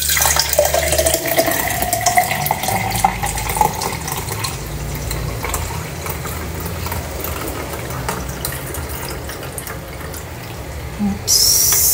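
Lemon and cucumber juice strained through a sieve gives a steady, continuous pour and trickle of liquid, close and fairly loud, with a brief clatter near the end.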